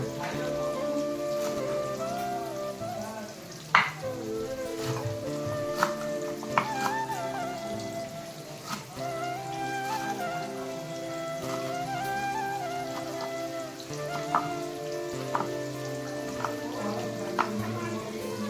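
Sliced onions frying in a pan for Hyderabadi dum biryani, a steady crackling sizzle with scattered pops and spits, moderately close and continuous throughout.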